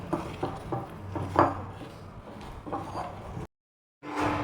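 Eggs being mixed with salt and turmeric in a bowl, with a utensil clinking and scraping against the sides in quick, uneven strokes, close and moderately loud, then a brief pause before the mixing resumes.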